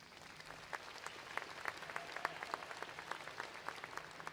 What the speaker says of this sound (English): you deserve to give yourselves a round of applause